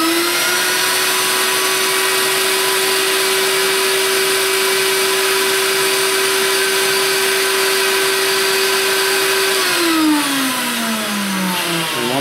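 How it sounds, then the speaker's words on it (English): A VPI MW-1 Cyclone record cleaning machine's vacuum motor runs with a loud, steady whine and airflow roar, holding one pitch before winding down near the end. "I'm going to swing the vacuum tube over, and I'm going to turn the vacuum on."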